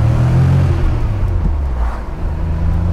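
A Porsche pulls away with its engine revving, a loud low throaty rumble that rises and dips as the clutch bites, heard close up from inside the car.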